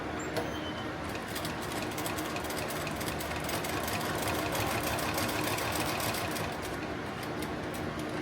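Sewing machine running a zigzag stitch across a plate carrier, a fast steady mechanical chatter of rapid needle strokes with a low motor hum, continuous and close, no talking.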